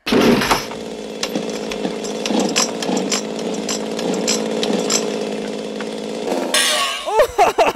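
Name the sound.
chainsaws running in a movie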